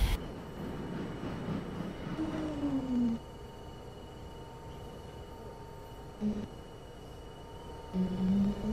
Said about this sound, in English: This is a Flushing Main Street bound 7 express train.